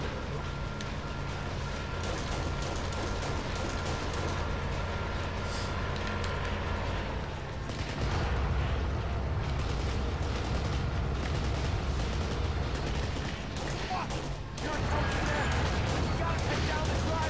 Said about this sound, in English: time to shoot out the window